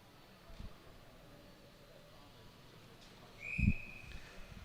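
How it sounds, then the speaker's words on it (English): A short whistle blown trackside at the start of a junior track cycling race, a single rising-then-steady tone heard fairly clearly over a quiet velodrome ambience. "Whistle blows and riders move into position."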